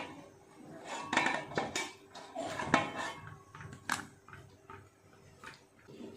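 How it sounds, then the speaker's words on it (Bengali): Cooked rice goes into a ghee-coated pot for mutton biryani, with a run of close, quiet clinks and scrapes of a metal utensil against the pot and no talking. "প্রথমে কিছুটা ভাত দিয়ে দেব।"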